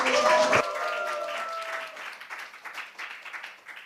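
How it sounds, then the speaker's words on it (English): At a Korean forum, a short burst of audience applause for a speaker fades away over a few seconds after a voice briefly talks at the start. "Please give him a big round of applause."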